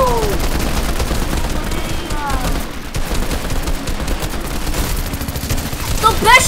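Shotgun gunfire in the video game Fortnite, heard as repeated loud blasts and bursts running throughout, under in-game talk and sound effects, with a harsh metallic crack near the end.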